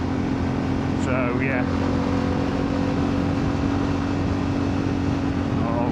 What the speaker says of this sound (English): I'll try and talk a bit less so you can actually hear the exhaust a bit better